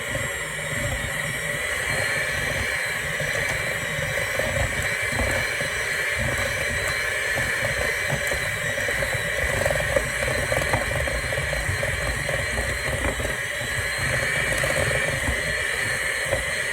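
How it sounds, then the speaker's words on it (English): A hand mixer whirs steadily through a softened butter mixture in a bowl, a continuous close motor drone with no talking. "we're going to go ahead and blend this all together with our hand mixer"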